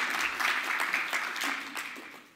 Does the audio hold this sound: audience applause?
yes